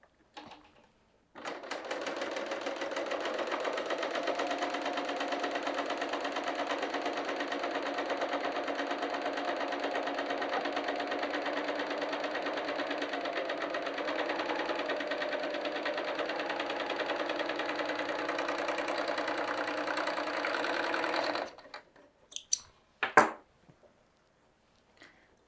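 A serger sews and trims a fabric edge, running at steady high speed for about twenty seconds, a loud continuous whirring rattle that then stops, followed by a few brief clicks.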